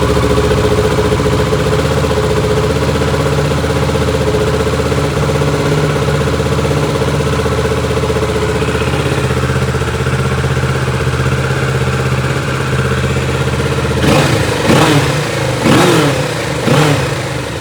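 A motorcycle on its original exhaust idles steadily in a garage with an echoing rumble, then near the end it is blipped through a few quick revs, each rising and dropping sharply.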